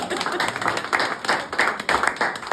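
An open mic audience claps in a steady, moderately loud patter of many hands for a couple of seconds, with no voices over it.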